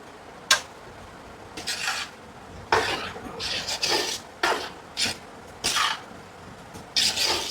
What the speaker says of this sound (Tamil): நல்லா ஒரு கலக்கு கலக்கி விடுங்க